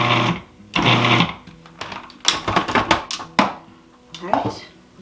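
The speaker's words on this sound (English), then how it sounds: "I'm just going to give these a super quick pulse just to kind of mix those together." Food processor giving dry cornbread ingredients a few quick pulses, short whirring bursts broken by pauses, with clattering and a voice in between.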